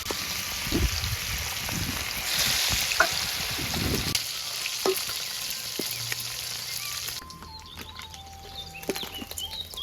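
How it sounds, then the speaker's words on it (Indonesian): Lemuru fish frying in hot oil gives a steady, dense sizzle and crackle, close and continuous, with occasional stirring clatter and knocks from the pan, quieting somewhat toward the end. "Goreng lemuru."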